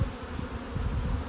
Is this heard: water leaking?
no